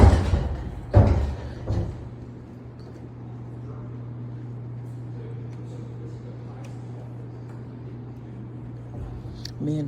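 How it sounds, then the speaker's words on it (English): The heavy old doors of the Old Cathedral in St. Louis open with a few loud wooden clunks and thuds in the first two seconds, then fade into a low, steady hum of quiet room tone. "My husband gonna open the doors up"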